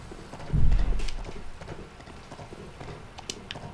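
Horse hooves clip-clopping in the video game Dark Souls 3, a heavy thud followed by a run of sharp, irregular hoof clops, fairly close and loud.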